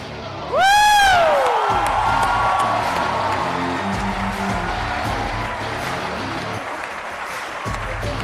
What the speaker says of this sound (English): Still clapping.